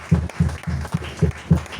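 A church congregation claps in rhythmic unison to acclaim the king, steady beats roughly every quarter second, close and full.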